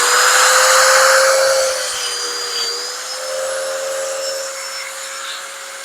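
Festool Domino DF 700 joiner running as it plunges a mortise into wood, a loud, steady high-pitched motor whine with a slight dip in pitch midway, alone without talk.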